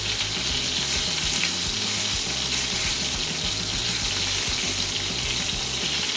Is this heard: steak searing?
yes